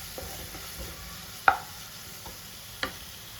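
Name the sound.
stirring ginger garlic paste frying in a pan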